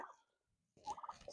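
Turkeys in a pen around feeding time give a brief call, go quiet, then break into a burst of excited gobbling and clucking, moderately close.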